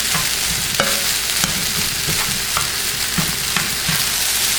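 Chicken fried rice sizzles loudly in a hot pan while a spatula keeps stirring, breaking up egg in repeated close scraping strokes over constant frying noise.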